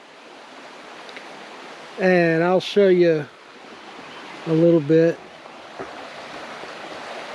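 Small waterfall on a river gives a steady broadband rush of flowing water throughout, with someone talking briefly over it twice.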